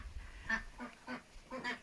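Ducklings quack faintly in a short, uneven series of four or five soft calls, heard from a small distance in an otherwise quiet setting.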